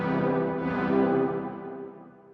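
A sustained synth pad drenched in reverb, its low end cut away, swells softly and then slowly fades out on its own over a couple of seconds.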